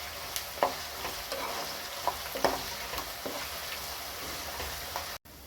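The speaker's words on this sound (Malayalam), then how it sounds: "ഇതെല്ലാം വഴന്ന് കിട്ടുന്നതിന് വേണ്ടിയിട്ട് ഇച്ചിരി ഉപ്പ് ചേർത്ത് കൊടുക്കാം. 2 മിനിറ്റ് ഇളക്കി കൊടുക്കുക." Garlic, ginger and chili sautéing with salt in a pan for lemon pickle, a soft steady sizzle broken by faint scrapes of stirring, quiet and close.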